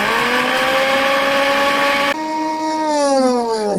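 A powerful mixer grinder runs at full speed: a loud, steady motor whine with a strong harmonic hum that dips slightly as the load shifts and then climbs again, close and with no talking.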